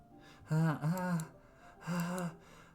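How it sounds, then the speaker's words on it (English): Two sharp, hissing inhales drawn through clenched teeth in the video game Doki Doki Literature Club, close and fairly quiet, separated by a brief pause. "Sharp inhale like someone sucking the air through their teeth."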